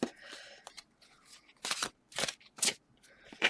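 Tarot cards being shuffled close by in several short bursts of riffling and snapping, separated by brief pauses.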